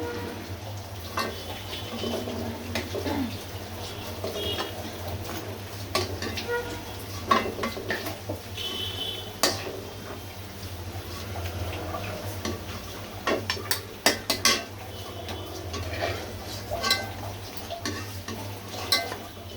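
Fried onion fritters (shahi peyaju) being lifted out of hot oil, with a continuous sizzle and frequent metal utensil clinks and scrapes against the pan, close and busy.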